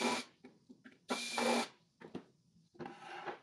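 A screwdriver with an adjustable clutch drives screws into a wooden crosscut sled in a workshop, giving several short whirring bursts of varying length, one long loud run in the middle, with pauses between them and no talk.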